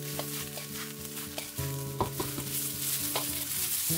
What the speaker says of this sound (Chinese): 把菠菜迅速的在锅里边翻炒